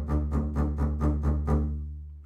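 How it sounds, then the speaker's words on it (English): Short, bouncy spiccato bow strokes on a double bass, about seven quick detached notes in an even rhythm over a resonant hum, close and clear. "Or short, bouncy sounds like this,"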